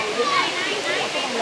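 Spring water flowing at water terraces in Cebu, a continuous rushing wash of moderate loudness, with voices over it.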